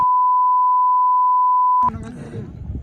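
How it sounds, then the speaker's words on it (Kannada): A loud, pure censor beep holds steady for nearly two seconds, then cuts off abruptly as muffled background noise takes over. "ಬೀಪ್ ಸೌಂಡ್ ಹಾಕಿ ಅಲ್ಲಿ"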